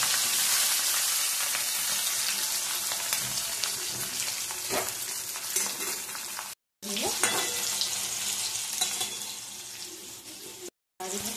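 Chopped capsicum frying for chilli paneer, loud steady sizzle in a pan with stirring scrapes, briefly cutting out twice, close by with no voices.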